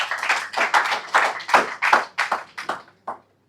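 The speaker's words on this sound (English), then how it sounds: "Can we have a round of applause for everyone?" An audience claps in applause during an entrepreneurship session, a dense run of fairly loud claps that thins out and stops near the end.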